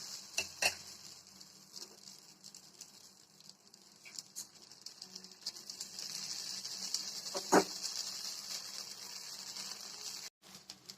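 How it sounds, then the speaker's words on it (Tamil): Dosa batter cooking on a hot pan, a steady soft hiss running throughout with a few faint scrapes and taps of a utensil, close and moderate in level. "இன்னொரு தோசை ஊற்றிக்கலாம்"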